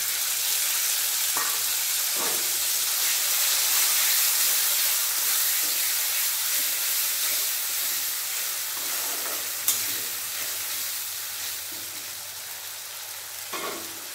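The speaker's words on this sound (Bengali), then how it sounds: "পেঁয়াজ লাল করে ভাজা হয়ে গেছে, এরপর বেটে রাখা মশলা দিয়ে দিলাম" Ground spice paste hits onions already fried red in hot oil and sizzles loudly and steadily, with an occasional soft clink of stirring. No one speaks.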